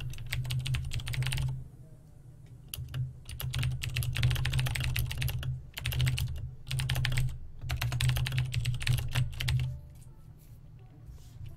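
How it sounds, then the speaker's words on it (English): Typing on a computer keyboard during a PC build session: rapid bursts of clattering key presses separated by short pauses, close and fairly quiet, with a low steady hum underneath and no talk. "I'm like typing."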